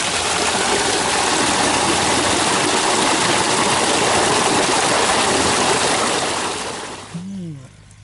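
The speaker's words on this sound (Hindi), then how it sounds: "तो अभी हम लोग ये मोटर चलाने लगे हैं।" A village water pump motor starts up with water gushing out, giving a loud, steady rushing roar that fades near the end as a voice speaks.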